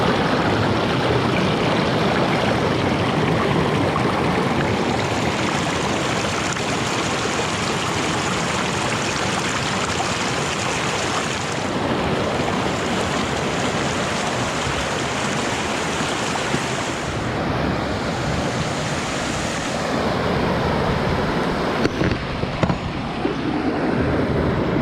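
Loud, steady roar of rushing river water in a small stretch of the river just below Faery Falls, a close, continuous wash of whitewater that never lets up, with no voices over it.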